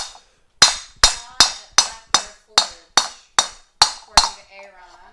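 A hammer strikes hot metal at a forge, planishing out earlier marks in about ten evenly spaced, sharp ringing blows, close and loud, each decaying quickly before the next.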